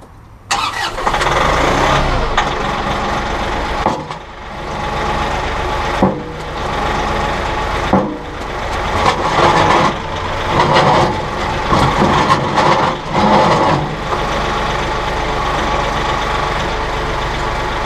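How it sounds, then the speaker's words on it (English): A loader tractor engine starts and runs steadily and loudly, its rumble rising and falling slightly with revving throughout, no voices present. "get back on the tractor"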